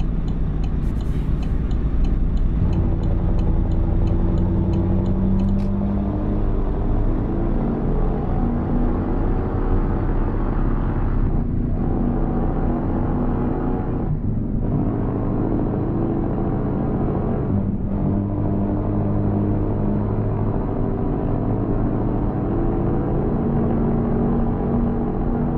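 Truck engine in Euro Truck Simulator 2 rumbling steadily at close range, with brief dips in its drone as gears shift, and a faint ticking indicator early on.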